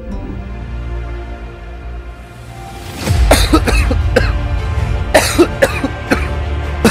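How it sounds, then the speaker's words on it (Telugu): A man coughing repeatedly in a short drama scene, several harsh close coughs in quick bursts after a quieter opening, with no talk. "ఏమైందిరా? దగ్గుతున్నావు?"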